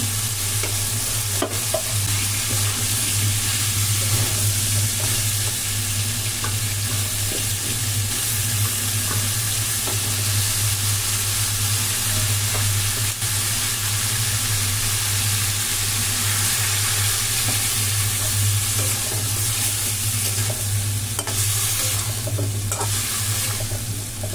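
Fish frying in a pan on a home stove, a steady dense sizzle with a constant low hum running close and loud throughout, no voices.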